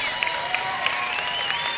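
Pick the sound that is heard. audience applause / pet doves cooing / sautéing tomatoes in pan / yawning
audience applause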